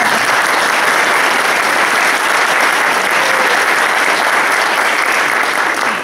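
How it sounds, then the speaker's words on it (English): Breakfast guests at a policy event applaud for the featured speaker, a loud, dense and sustained wash of clapping that fills the room without a break. "Yes, a round of applause."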